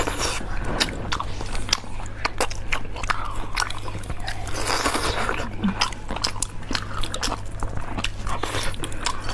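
Crunchy, close-up chewing and biting of toothpick-skewered meat during a spicy seafood eating session, with steady moist crunches and bites repeating throughout over a low hum.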